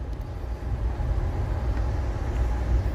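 Passenger train rolling slowly on its way to Kolkata from Punjab via Kanpur, easing down at a signal: a steady low rumble of wheels and carriage noise, close and continuous, with no talking.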